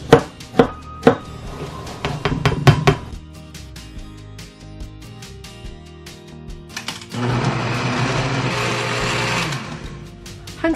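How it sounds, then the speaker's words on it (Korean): A knife chops ginger and garlic on a board in a quick run of sharp, close taps at the start. After a quiet stretch, a louder sustained whirring sound takes over. "우리 향긋한 맛과 감칠맛을 이끌어내도록 생강과 마늘도 썰어 줄게요"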